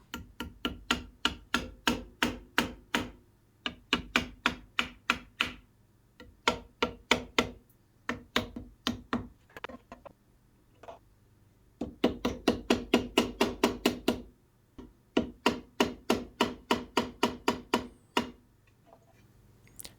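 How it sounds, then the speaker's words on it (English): A dead blow hammer taps a wooden guitar fretboard in quick repeated bursts of sharp knocks, steady and close, with short pauses between the volleys. "a little bit of a persuasion from a dead blow hammer"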